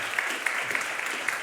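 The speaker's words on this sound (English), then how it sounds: "And another warm applause for Betty." Audience applause at an award ceremony for women in science fellowships, a dense, steady clapping from a hall crowd, moderately loud and continuous through the short stretch.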